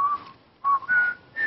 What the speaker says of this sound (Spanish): Me dio fue el silbidito.